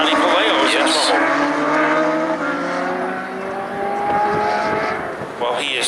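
Legends race cars roar around Stafford Speedway during the Spring Sizzler feature, several engines at full throttle packed close together in a continuous, loud, sweeping drone with shifting pitch, with an announcer talking over it.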